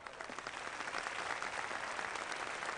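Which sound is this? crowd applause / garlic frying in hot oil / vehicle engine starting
crowd applause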